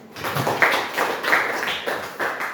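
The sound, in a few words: classroom applause for a classmate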